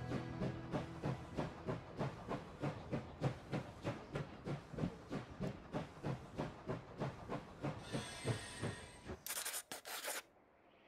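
A steam train rolls on in Last Train Home, its regular chuffing beats pounding steadily, then a loud burst of steam hiss and a whistle-like tone near the end.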